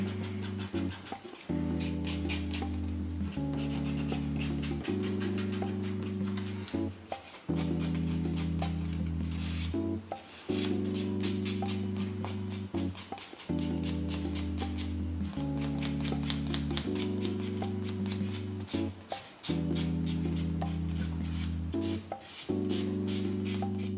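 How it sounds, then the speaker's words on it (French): Rhythmic rubbing of a white buffer block across semi-permanent gel nail polish, stripping the shine from each nail in steady back-and-forth strokes, close and fairly loud, with a low tonal hum running underneath throughout. "on enlève la brillance comme ceci en frottant bien et sans abîmer les cuticules"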